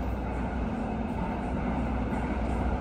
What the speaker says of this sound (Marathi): बिना ड्रायव्हरनी मेट्रो चालला.